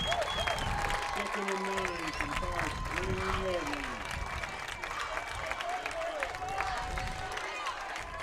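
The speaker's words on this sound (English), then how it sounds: "St. Vincent is cheering on the St." Football game crowd sound: a steady, dense wash of applause and cheering from the stands, fairly distant, running continuously with voices chanting and talking mixed through it.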